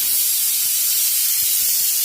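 Pressure cooker vents steam with a steady, loud hiss after its whistle while potatoes cook for poori at home. The broadband rush holds constant throughout with no voices.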